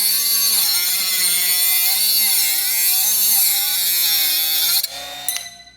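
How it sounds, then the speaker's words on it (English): A Bosch GWS 12V-76 brushless cordless 76mm angle grinder cuts through aluminum with a loud, sustained high-pitched whine that wavers slightly. It stops abruptly near the end, and a few clatters follow. "Okay, aluminum with the grinder, very ugly cut."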